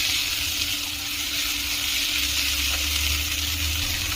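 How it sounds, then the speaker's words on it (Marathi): Carrots sautéing in a pot for spinach khichdi give a steady, close sizzle and hiss that runs unbroken, with a low bubbling rumble swelling underneath toward the end. "गाजर थोडंसं परतून घेऊयात आपण."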